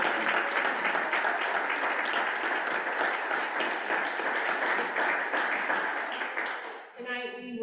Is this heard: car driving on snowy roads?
no